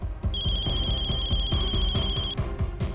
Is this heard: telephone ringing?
yes